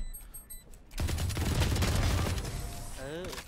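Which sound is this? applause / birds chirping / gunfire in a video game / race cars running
gunfire in a video game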